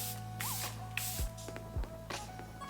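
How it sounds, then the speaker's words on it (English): An airbrush sprays makeup onto a face in several short, soft hissing bursts, close and quiet, with faint mechanical hum between them. "we're gonna spray our face with the airbrush again."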